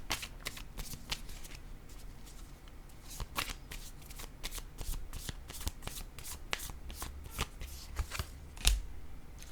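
Tarot cards being shuffled and laid down, a close, crisp run of rapid riffling flicks and snaps repeating steadily with a soft thump near the end.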